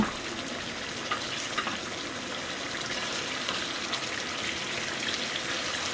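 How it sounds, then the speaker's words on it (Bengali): Koi fish simmering in a gravy of oil and spices, a steady soft bubbling hiss with faint popping throughout, moderately quiet and unbroken, no voices. "এবার আমি মাছগুলো ঝোলের মধ্যে 2 মিনিট ধরে ফুটিয়ে নেব।"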